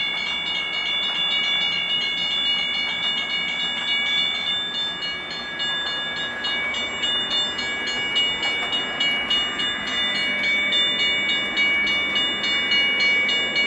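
A small O gauge model train hums steadily along its track near a railroad crossing, with a whirring motor tone and faint rhythmic clicking, close by and without voices.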